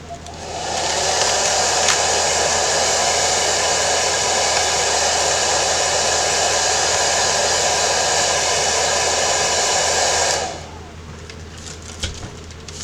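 A hair dryer blows steadily and loudly on wet paint for about ten seconds, then switches off, leaving a quiet room with a faint click.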